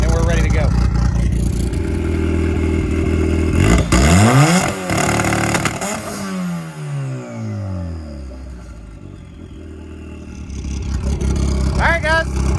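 Stock-turbo Dodge Caliber SRT4 engine revved toward 5,500 RPM, a loud close rising and falling sweep of engine tone that climbs, drops, and climbs again over a steady idle drone.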